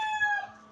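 Chickens crowing and clucking in a poultry yard, a short bright harmonic call that rises then trails off, close and fairly clear with no talk over it.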